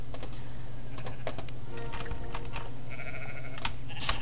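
Sheep bleat in short wavering calls from a farming video game, layered over continuous rapid clicking of a computer keyboard and a low steady hum.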